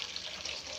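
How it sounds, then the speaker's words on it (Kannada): Water poured into a pot of rasam made with tamarind and asafoetida, a brief steady splashing pour heard up close with no talking. "ಅಷ್ಟು ನೀರು ಹಾಕೋದು, ಅದೇ ನೋಡಿ."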